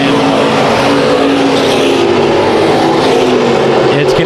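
Race cars at Bakersfield Speedway dicing for the lead in a heat race: a loud, dense wall of engine roar with tire noise, continuous and close throughout, while an announcer's voice runs underneath.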